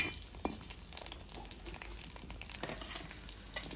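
Ingredients roasting in oil in a pan, including garlic and ginger, a soft continuous sizzle with crackly stirring and rustling, fairly quiet and close.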